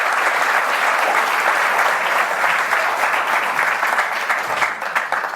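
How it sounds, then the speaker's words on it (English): A live audience at a London event claps steadily in a dense, sustained round of applause that tapers slightly at the end, with no talking over it. "let's give him a round of applause for him before he's even arrived."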